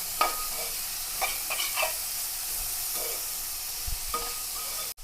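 Cabbage and mixed vegetables stir-fried in a pan for chicken noodles, with a steady soft sizzle and scattered scraping stirs of a spatula, close and continuous with no voices.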